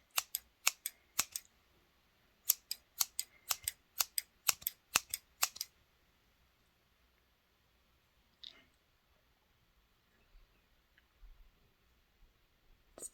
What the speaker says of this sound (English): All right, now I'm just going to do a gentle cutting away.